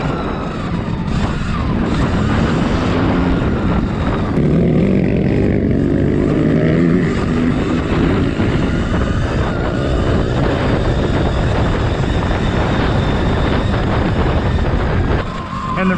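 A Sur Ron XX electric dirt bike being ridden fast through corners, with a continuous loud rushing whine of motor and wind buffeting, close and steady throughout.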